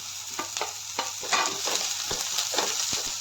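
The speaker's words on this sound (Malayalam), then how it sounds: "സവാള ഒന്ന് ചെറുതായിട്ട് വഴന്നു തുടങ്ങുമ്പോഴേക്കും അതിലേക്ക് ഇഞ്ചി ചേർത്ത് കൊടുക്കാം." Chopped onion, ginger and green chili sizzle steadily in hot oil for a Kerala-style tapioca upma, with a constant frying hiss broken by repeated scrapes and clicks of a spoon stirring the pan, close and moderately loud.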